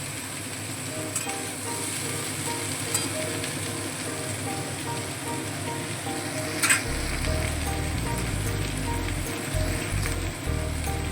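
Halved jackfruit seeds frying with mixed vegetables, a steady crackling sizzle with light stirring knocks, moderately close, thickening slightly partway through with no voices.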